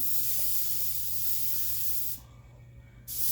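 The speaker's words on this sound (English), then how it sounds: "keep your airbrush as close as possible to your surface so they're not so much overspray" An airbrush sprays paint in a steady close hiss while laying down script lettering, running for about two seconds before cutting off into a quieter pause, then resuming at the end.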